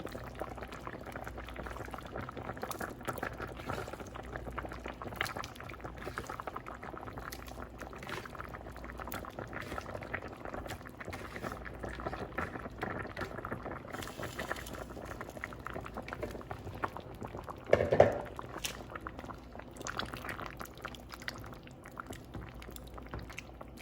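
Chicken and dumplings boiling in a pot, made from frozen: a steady bubbling simmer throughout, moderately quiet and close, with a brief louder bubbling swell near the end and no talk.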